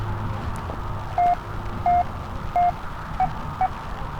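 Short electronic Morse code beeps from a radio in a video game, at a steady pitch, five of them spaced unevenly, over a low hum of static.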